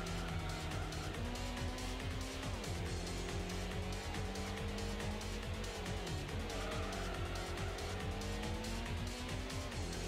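A Pontiac GTO race car in the Gran Turismo video game corners hard, its engine droning and shifting pitch while tires squeal and skid through the turns, steady and prominent for the whole stretch with no talk.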